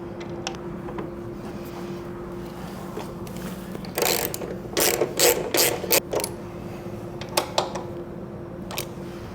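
A ratchet wrench turns the nuts on a stretched 4.5-inch CVO motorcycle rear end kit. The clicks are sparse at first, then come in loud, quick bursts of ratcheting, close by.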